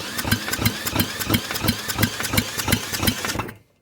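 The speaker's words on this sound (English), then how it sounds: "We're not going to spin it fast enough for this Black & Decker drill, but any compression is good compression." A Raptor 3 engine is cranked by a Black & Decker drill for a compression test, giving a loud, even chugging of regular compression pulses that stops abruptly near the end.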